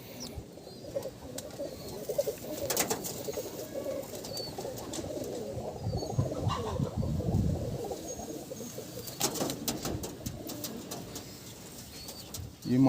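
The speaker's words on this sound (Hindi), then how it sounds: "ये कबूतर सब ब्रीडिंग का कबूतर है।" Breeding pigeons, including a pilka pigeon, coo low and steadily in a loft, a continuous murmur of overlapping calls with occasional soft wing flutters, fairly close and without speech.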